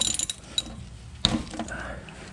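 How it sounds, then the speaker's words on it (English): A ratchet wrench clicks on the oil drain plug of a V8 BMW E39, giving a few sharp mechanical ratcheting snaps with a loud click partway through, close up. "Let me just use my ratchet."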